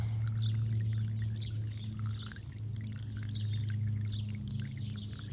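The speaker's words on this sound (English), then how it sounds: "Enjoy the relaxing sounds of trickling water." Siphoned liquid trickling steadily through a tube into a container, a faint continuous pouring sound with soft bubbling over a low hum, no speech.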